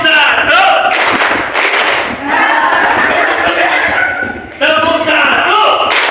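Junior high students in a classroom clap short rhythmic patterns in bursts, with a teacher's voice and children's voices heard between and over the claps.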